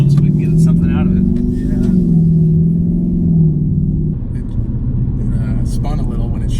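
Stock 2018-2019 Ford Mustang GT pulling hard on nitrous, a loud close engine drone rising through the gears before backing off, with people talking over it.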